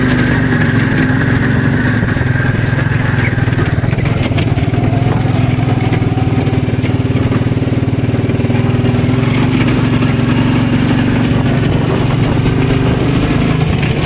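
A 2001 Suzuki King Quad 300 ATV engine drones loudly and continuously at close range while revving and changing up through the gears, with a pitch shift partway through.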